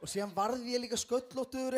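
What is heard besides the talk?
None of the usual background noises is heard.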